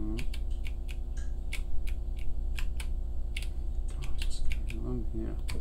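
Scattered keystrokes on a computer keyboard click in quick, uneven bursts over a steady low electrical hum, with nearby clicks fairly clear.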